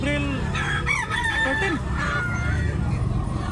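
A rooster crows a drawn-out call over a noisy outdoor crowd murmur at a cockfighting gathering in Tabunok, Philippines, with further crowing and clucking following.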